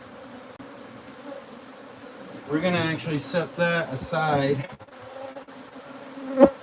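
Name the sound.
bees buzzing around a wild beehive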